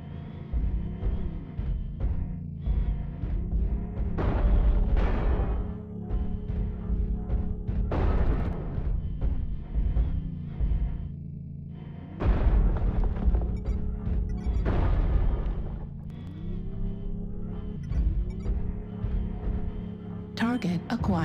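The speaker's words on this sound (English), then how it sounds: "Artillery strike online." Artillery strike explosions in the MechWarrior Online video game: a series of heavy booming blasts at irregular intervals over a steady droning mech engine hum and game sound effects.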